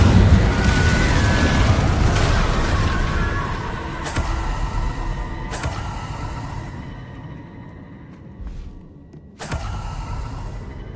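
Fiery spell explosions from Hogwarts Legacy, the Confringo and Incendio spells, go off as a rolling series of loud booming bursts with crackling tails, plus a final sharp blast near the end.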